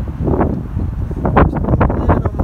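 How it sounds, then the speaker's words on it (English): Strong gusty wind buffets the microphone outdoors beside a 2008 BMW X3, producing loud low rumbling bursts that rise and fall throughout without a break. "my apologies for this crazy wind today"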